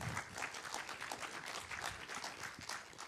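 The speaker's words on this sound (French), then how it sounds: "On les applaudit bien fort," Warm audience applause welcoming guests at a film screening club evening, a steady, fairly even roomful of clapping heard at a distance and quite faint, continuing throughout without talk.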